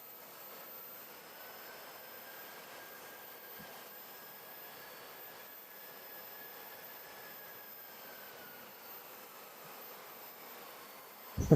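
An American Airlines jet arriving at Charlotte airport makes a faint, distant whine and rumble that holds steady throughout, with no voices and a sudden thump at the very end.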